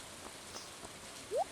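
Rain falls in the farming video game Stardew Valley as a steady, even hiss with faint soft patters, close and unbroken, with no talking.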